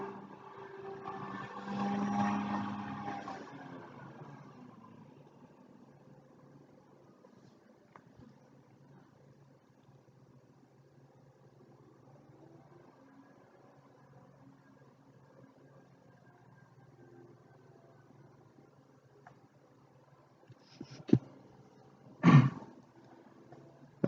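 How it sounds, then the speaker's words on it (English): A lawn mower runs outside a window as a faint, distant, steady engine drone through the background, with a few louder close knocks near the end. "mowing the lawn outside my window"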